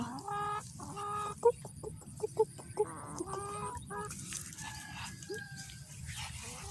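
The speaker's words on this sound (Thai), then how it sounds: "ปะทุกคนเรามาเดินดูไก่ดูเป็ดกันค่ะ" Farmyard chickens and ducks, the birds clucking in short repeated bursts with a few sharper calls, moderately close over a low background of ambient noise.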